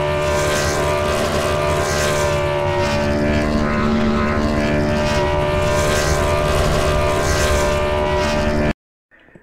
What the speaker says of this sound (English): Allison heads over to victory lane and burns out in victory lane.